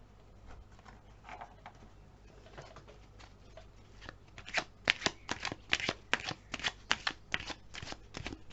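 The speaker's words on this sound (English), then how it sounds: "So I'll pull us one more message card." A deck of oracle message cards being shuffled close up, starting with soft scattered riffles and building into rapid, crisp repeated flutters, while faint bird cooing sits in the background.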